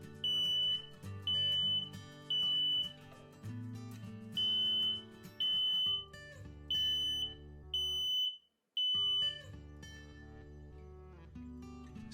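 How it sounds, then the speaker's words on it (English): Smoke detector beeping repeatedly in short high chirps at a steady rhythm while mounted during installation, heard over loud continuous background music. "Once you hear a beep, your detector is ready to be mounted on the bracket."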